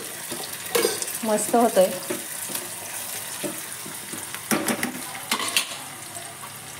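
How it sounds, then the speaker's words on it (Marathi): Tadka tempering for dal gosht sizzles and crackles in a pan with bursts of frying and stirring, while someone talks briefly over it. "आणि आपला इकडे तडका"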